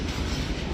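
A diesel train at a railway station gives a loud, steady low rumble and rolling rail noise throughout a brief moment, close by and with no talk.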